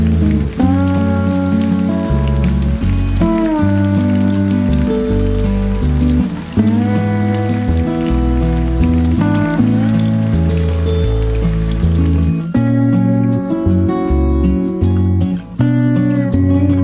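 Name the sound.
sudden rain shower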